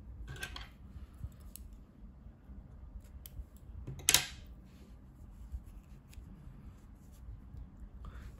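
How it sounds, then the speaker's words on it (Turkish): Scissors snip crochet yarn in a few quiet, isolated cuts, close and soft against a faint room hush, with one sharper snip partway through. "İpliği kesiyorum."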